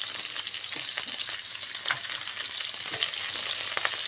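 Chopped onions fry in a pan for a spicy shark curry, giving a steady, close, crackling sizzle throughout with faint scraping stirs and no voices.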